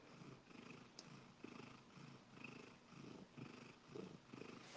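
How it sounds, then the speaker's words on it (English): A cat purrs loudly and close by, a steady rhythmic rumble that swells and fades with each breath across the whole stretch. "He does have a very loud purr."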